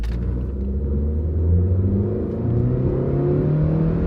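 A Mazda car with a 4-speed automatic transmission accelerating from a standstill, its engine rumbling and revving steadily higher as the speed builds, heard loud and close from inside the car.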